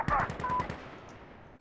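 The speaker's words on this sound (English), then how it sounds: "I got killed by an assault rifle from across the map." Assault rifle fire in the tactical shooter game Insurgency, a rapid burst of close, loud shots that stops abruptly and leaves a decaying echo.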